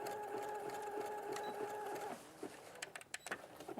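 A Brother sewing machine stitching fabric runs in a steady, close mechanical whir for about two seconds, then stops, leaving light handling noises and brief talk.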